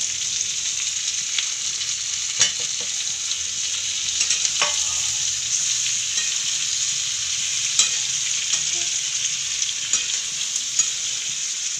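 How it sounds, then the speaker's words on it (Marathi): Capsicum with crushed peanuts sautéing in a pan, a steady soft sizzle heard up close, broken by a few light spoon taps and scrapes. "मी आता शेंगदाण्याचे कूट टाकते आहे"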